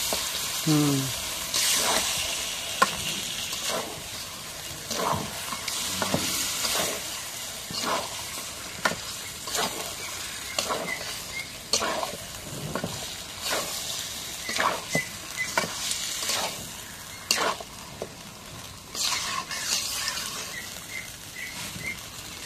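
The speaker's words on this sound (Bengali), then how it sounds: "এখন একটু নাড়া দিয়ে দিই। খাসির মাংস তেল দিচ্ছি।" Goat meat frying in oil as it gets stirred, with repeated scraping strokes of a spoon against the pan over a steady low sizzle, fairly close.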